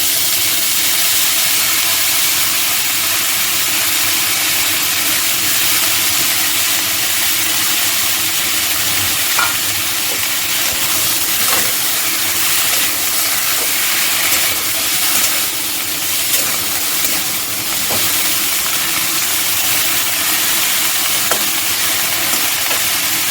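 Raw green banana pieces fry in a pan for a Bengali fish curry, giving a steady, loud, dense hiss of oil sizzling throughout, with a few faint clicks and no talking.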